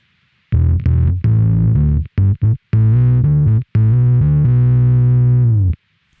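Bass guitar run through a Microsynth pedal with sub-octave and octave voices engaged, giving a thick synthy tone; a loud sequence of sustained notes with short gaps, ending on a long held note, no talking.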